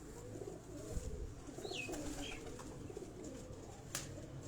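Breeder pigeons coo softly on a rooftop loft, low murmuring calls in a steady background with a faint rustle and a brief higher chirp, at moderate distance.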